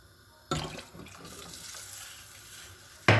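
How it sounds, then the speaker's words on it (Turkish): Water poured into a cooking pot of lightly fried potatoes for Turkish sulu köfte, a steady splashing stream of close, moderate volume running for about two and a half seconds between sharper knocks, with no talk. "Bir bu kadar daha yani 1 litreye yakın su ekleyeceğim."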